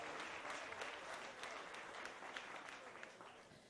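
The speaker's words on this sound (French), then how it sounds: "On l'applaudit." Audience applause at a local artist showcase, steady dense clapping from a crowd filling the whole stretch at moderate distance, with no voices on top.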